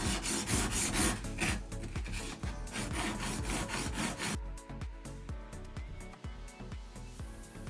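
An antique hand plane blade is sharpened by hand, a steady back-and-forth rasping rub of metal on an abrasive stone in repeated close strokes, shifting to a slower, softer scraping rhythm partway through.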